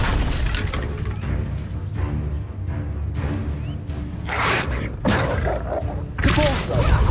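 An Incendio fire spell cast in Hogwarts Legacy, a continuous rumbling whoosh with bright flaring bursts and impact thumps, loud and close throughout the scene.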